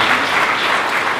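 An audience at an award ceremony breaks into steady, dense applause, a brief close burst of many clapping hands.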